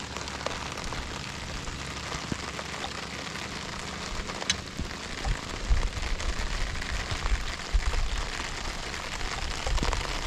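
Steady rain pours down, a dense even hiss with scattered drops tapping nearby; no voices.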